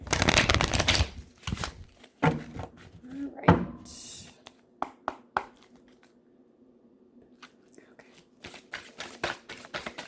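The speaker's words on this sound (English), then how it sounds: "we're going to pull however many cards Spirit throws at us" Tarot cards being shuffled and pulled from a deck, close and crisp: a rapid riffling burst, then scattered slaps and flicks of single cards with quiet pauses between.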